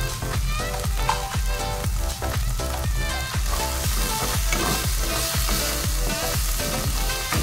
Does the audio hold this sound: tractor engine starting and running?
no